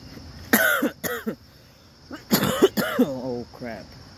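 Several close coughs and throaty bursts in two clusters, with voiced, strained sounds between them against a faint background hiss.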